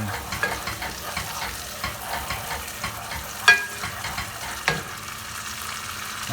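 Ginger and garlic sizzle in a curry-paste sauce with masala spices for a restaurant-style chicken curry, steady frying hiss punctuated by regular stirring scrapes and a couple of sharper utensil clinks, close and moderately loud.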